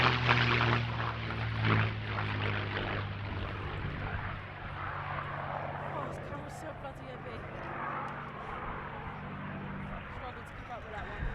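A North American P-51 Mustang warbird flying an airshow display at Duxford, its engine a steady, fairly distant drone heard under continuous commentary.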